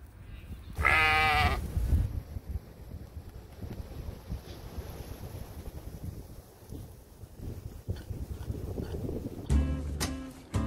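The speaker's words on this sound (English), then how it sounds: "the sheep then decide to follow me all the way down to see me top their water up" Sheep on a winter smallholding bleat loudly in a short burst near the start and again toward the end, with a steady windy outdoor rumble in between.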